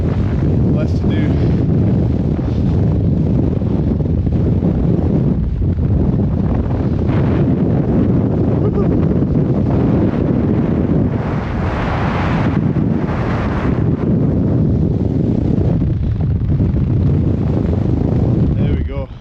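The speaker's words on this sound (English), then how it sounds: "I think down there should be out of the wind" Strong wind buffets the microphone on a winter mountain summit in the Scottish Highlands in March, a loud continuous roar with gusty surges, and a person speaks intermittently underneath.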